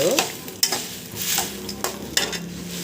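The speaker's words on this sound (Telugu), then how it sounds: "ఈ కరివేపాకుని మిగతా ఈ ఆయిల్లో వేయించుకోవాలి" Curry leaves frying in hot oil in a pan, a close, steady crackling sizzle broken by several sharp stirring scrapes and clinks of a utensil against the pan.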